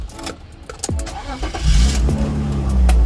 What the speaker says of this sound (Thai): เดี๋ยวไปซาร์ทเครื่องกันก่อนดีกว่าว่าเครื่องเป็นยังไงบ้าง